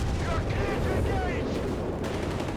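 Anti-tank gunfire from a 2-pounder gun in the strategy game Company of Heroes 3, sharp booming shots with rumbling battle noise, heard under a caster's voice.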